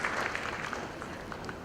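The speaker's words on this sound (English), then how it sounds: "a big round of applause for the inaugural panel of the 20th edition of Fiki Frames" An audience at a film event applauds the inaugural panel, a dense, steady wash of clapping from a crowd, sustained throughout at moderate volume with no clear voices.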